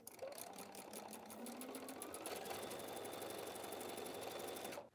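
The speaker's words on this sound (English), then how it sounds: "I'm just going to go sew that here to here" A sewing machine stitches a fabric seam for a quilted wall hanging, running in a fast, steady mechanical rattle of needle strokes close by before stopping abruptly at the end.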